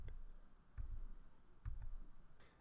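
Number keys on a computer keyboard are tapped in sequence during a DragnCards card game, faint dull clicks and thumps spaced about a second apart over quiet room hum.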